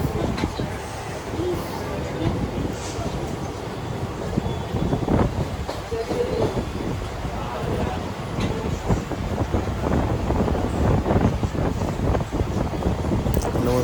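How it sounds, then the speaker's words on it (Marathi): A Mumbai local train rumbles past near Parel station at night, with rattling, clattering wheels and a steady roar, heard from nearby amid the background noise. "बघा दुसरी ट्रेन मुंबईची लाईफ लाईन"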